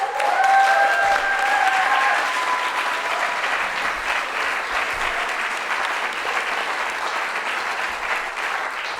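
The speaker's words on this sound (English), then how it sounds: "can we please get a huge round of applause for the Miles Donahue Quintet?" Festival audience gives a sustained round of applause for a jazz quintet, dense clapping with light crowd noise that fades slowly over about nine seconds, a few brief tonal tones sounding near the start.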